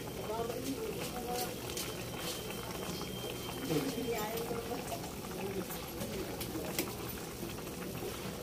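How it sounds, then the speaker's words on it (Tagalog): A pot of rice water boiling on the stove, with a steady bubbling hiss and sputter heard close and fairly quiet. "kumulo na po. Kunin lang natin yung bula-bula."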